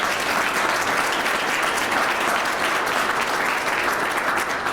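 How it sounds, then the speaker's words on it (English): Loud, sustained audience applause at a Western Canada Summer Games partnership announcement, a dense wash of clapping hands holding steady throughout without letting up. "And just a round of applause for all of them"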